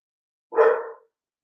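A single dog bark, short and fairly loud, sounding indoors against otherwise near silence.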